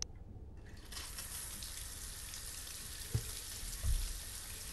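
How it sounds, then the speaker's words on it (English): Shower water running in Happy's Humble Burger Farm, a steady, soft hiss of spray with a couple of faint knocks and thumps near the end, heard alone at low level. "Let me take a shower."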